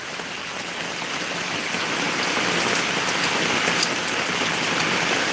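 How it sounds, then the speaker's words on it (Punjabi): Heavy rain pours steadily over Dhotian village in Punjab in a dense, unbroken hiss, loud and close with no voices. "ਕਾਫੀ ਮੀਂਹ ਪੈ ਰਿਹਾ ਆ"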